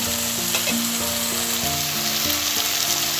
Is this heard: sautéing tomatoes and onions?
yes